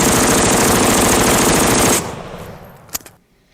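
Sustained automatic rifle fire in Escape From Tarkov, loaded with long banana magazines, rattles loud and dense for about two seconds before stopping abruptly, followed by a few faint clicks and handling sounds.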